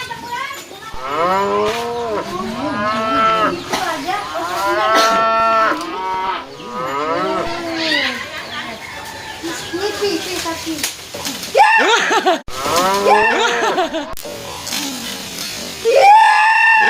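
Cattle moo repeatedly and loudly nearby, long drawn-out calls following one another with short gaps, while people talk in Indonesian in between and over them.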